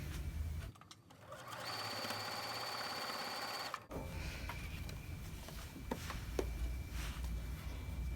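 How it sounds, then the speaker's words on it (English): A sewing machine stitches a wonky star quilt block. The motor hums steadily for about two seconds, then gives way to quieter rustling and handling of the fabric. "I'm going to pick my next side, make sure it's going to cover it, and I'm going to stitch it down."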